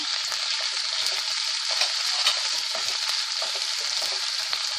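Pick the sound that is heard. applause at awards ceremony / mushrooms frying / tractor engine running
mushrooms frying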